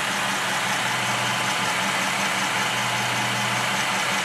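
A 2007 Dodge Charger R/T's V8 engine idles smoothly and steadily nearby, a continuous even rumble with no other sounds.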